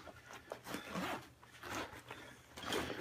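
A zipper on the main compartment of a Wancher tactical bag is drawn open in several quick, close rasping pulls across about three seconds, with no talking.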